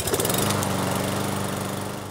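A lawn mower runs steadily and close at hand, a loud continuous engine drone with no breaks, while a gardener cuts grass in Roscoe Village.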